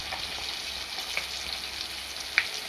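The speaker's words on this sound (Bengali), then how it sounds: "এই দেখো মাছ ভাজা, মাছ ভাজা রেডি হচ্ছে" Fish fries in a pan with a steady, soft sizzling hiss, with a couple of small spattering pops near the end.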